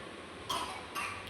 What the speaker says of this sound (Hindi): कैसे खांसी हुई, दिखाना।